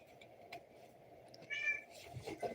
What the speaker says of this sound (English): I have kitties doing things behind me.